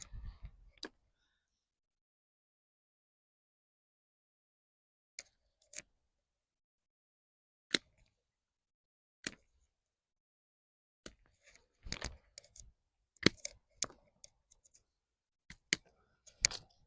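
Pruning shears cutting back a very old bush on a winter allotment: a handful of sharp, isolated snips spaced seconds apart, then a quicker cluster of clicks near the end, with no talking.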